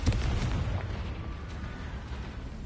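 The Confringo blasting curse in the video game Hogwarts Legacy goes off as a heavy explosion, a booming burst up front that tails into a long rumble at moderate loudness.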